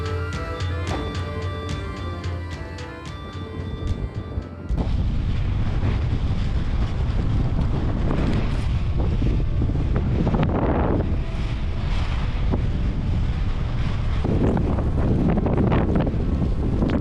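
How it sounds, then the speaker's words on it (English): Strong side wind roars and buffets continuously, loud and close, in sandy Icelandic highlands, after a brief stretch of music at the start. "Side winds, very strong."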